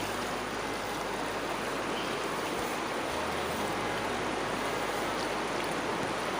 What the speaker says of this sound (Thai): เสียงนำไหลโอ้ยสุดยอด